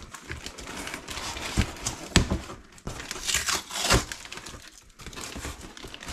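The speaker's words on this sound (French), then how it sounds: "on va déballer tout ça" Parcel packaging is unwrapped by hand, with close crinkling, tearing and rustling in uneven bursts and a few sharp rips.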